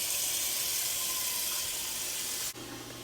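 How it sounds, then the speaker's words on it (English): Very hot water runs from a tap into a big pot, a steady rushing hiss that cuts off sharply near the end, leaving a quieter low hum; no one speaks. "We have to put some very, very hot water in here."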